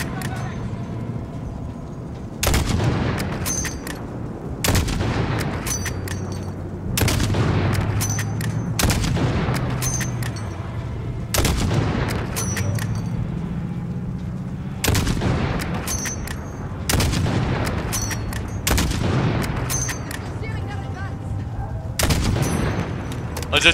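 Call of Duty Modern Warfare gunfire aimed at a six-wheeled vehicle's tires: sharp, loud single shots repeating roughly every two seconds, each cracking out over a steady engine rumble.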